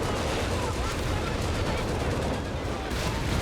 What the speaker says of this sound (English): So the artillery starting to fly both directions